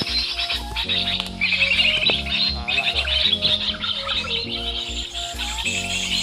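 Wild birds such as kacer (magpie robin) and cucak rowo (straw-headed bulbul) chirp and twitter continuously, drawn in by a tinkling music box melody that plays steadily underneath the birdsong.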